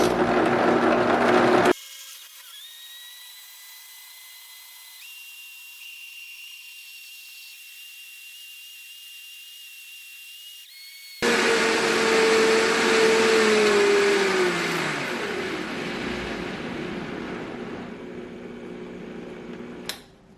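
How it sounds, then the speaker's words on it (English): Blender grinding almonds with water for almond milk, a loud close motor whir that starts abruptly, runs steadily and then slows and fades, with quieter machine tones in between. "And then I blend it for a minute or two depending on your blender."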